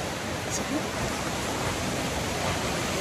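Steady, rushing floodwater on a farm during a typhoon flows continuously with a broad noisy roar, close and loud, without pauses.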